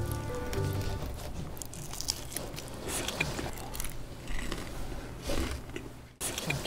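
Close, crunchy bites and chewing of crispy fried chicken, a steady stream of crackling crunches over a low background hum.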